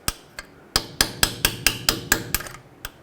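Sharp metal hammer blows drive a chisel bit against a stuck C-clip on the 4WD actuator of a 1997-2003 Ford F-150, about eleven ringing strikes in a loose, uneven rhythm, close and loud, with no talking.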